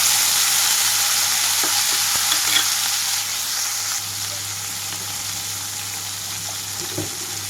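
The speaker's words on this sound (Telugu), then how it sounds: "ఇక్కడ తాలింపు అంతా చిటపటమన్న తర్వాత పచ్చిమిరపకాయ ముక్కలు వేసేసుకుంటున్నాను, అలాగే టమాటా కూడా." Chopped green chilies and tomato sizzle loudly in hot tempering oil for garlic rasam, a dense, steady frying hiss with faint stirring scrapes and a low background hum.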